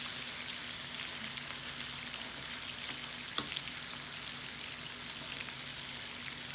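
Fish fries slowly in hot oil, giving a soft, even hiss and fine crackle that runs steadily with one small clink partway through.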